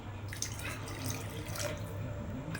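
Water poured into a pot of rice for basanti pulao on a medium flame, a steady soft trickle and splash running throughout, faint and close.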